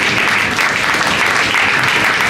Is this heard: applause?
yes